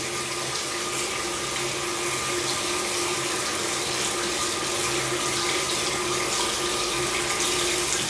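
Shower water runs steadily in a hotel bathroom in Benin, a constant hissing spray at moderate level with no breaks and no talking.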